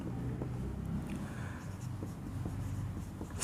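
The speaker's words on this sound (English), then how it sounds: "So write down the solution." A pen scratches steadily across paper while a math solution is worked out, a soft continuous scribbling close by over a low background hum, with faint marks of individual strokes.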